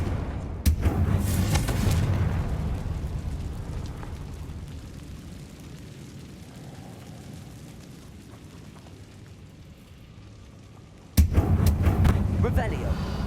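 Confringo fire spell blasts in the Hogwarts Legacy game: a loud booming burst near the start, a long fading rumble, then a second heavy blast near the end.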